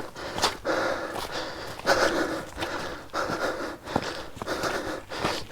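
A hiker breathes heavily on a trail up to the Col du Donon: rhythmic, raspy panting close to the microphone, about one deep gasp every second, alone with no talk.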